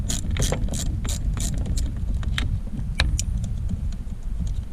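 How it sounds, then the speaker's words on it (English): Ratchet loosens the battery terminal bolts on a Subaru Impreza, giving rapid clicking under a steady mechanical hum and rustle, with no voices. "to unloosen the terminals, we have to loosen these two bolts"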